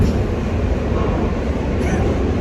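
Steady low rumble of a New York J subway train, a dense continuous roar with a faint high whine above it, loud and close throughout.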